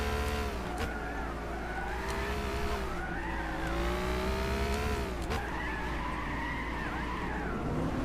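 A Cizeta V16 T in Gran Turismo 6 howls through its gears, the engine pitch rising and falling with repeated tire skids and squeals, loud and continuous with no talk.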